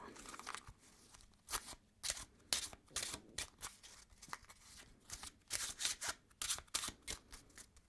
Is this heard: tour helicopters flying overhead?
no